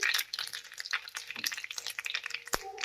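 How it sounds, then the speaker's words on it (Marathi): Mustard seeds and browned garlic sizzle and crackle in hot oil for a spinach curry, a close, busy spatter of small pops with one sharper crack near the end, and no speech. "आता मोहरी पण तडचड वाजली की जिरी घालायची"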